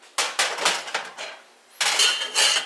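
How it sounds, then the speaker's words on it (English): Ramen noodles with egg poured gently from a pot into a bowl, giving a run of close clinks and scrapes of pot against bowl, a short pause, then another burst of clattering contact. "I'm going to pour it gently in this bowl so you can see it"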